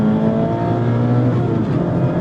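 Mazda MX-5 Miata Club ND3 (2024) accelerating hard on a race track after a double-clutch into first, a loud, steady close-up engine drone with strong harmonics rising slightly over about two seconds, no talk.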